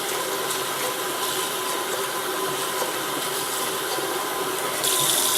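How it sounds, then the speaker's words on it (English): Tap water runs from a kitchen faucet into a rice cooker pot of quinoa being rinsed, a steady hissing rush, close and continuous, that grows slightly brighter near the end. "Turn on the water, and we're going to rinse it 3 times."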